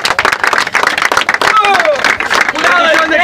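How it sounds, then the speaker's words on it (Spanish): An audience at a freestyle rap battle breaks into rapid, close clapping and applause, with crowd voices and shouts rising over the clapping toward the end. "¡Aplausos!"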